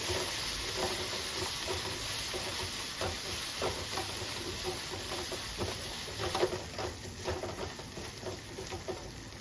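Masala frying in oil in a pan for a mutton bones curry, a steady close sizzle with scraping stir strokes throughout and no talk.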